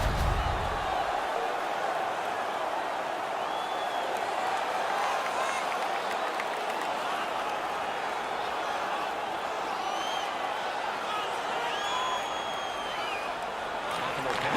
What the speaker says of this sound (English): The home crowd is ecstatic.